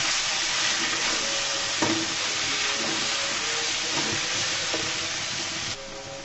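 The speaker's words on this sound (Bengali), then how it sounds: "আমরা এই পর্যায়ে দিয়ে দিলাম কয়েকটা কাঁচামরিচ, দিয়ে আমি ভালো করে নেড়ে চেড়ে দিচ্ছি" Fried potatoes with green chilies sizzle loudly in a pan, a dense continuous hiss broken by occasional scrapes and taps as they are stirred.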